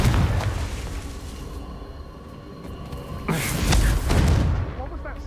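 A Confringo fire spell blast from the Hogwarts Legacy video game booms out, with a heavy explosive burst midway and a second surge after it, over a rumbling game background with a voice nearby.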